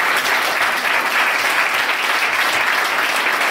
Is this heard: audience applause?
yes